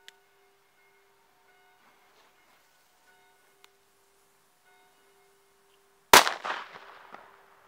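A small Silver Pirate firecracker with 0.8 g of black powder goes off outdoors after a quiet stretch with faint ticking. It gives one loud, sharp bang with a short echoing tail.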